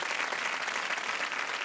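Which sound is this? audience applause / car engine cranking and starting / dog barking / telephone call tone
audience applause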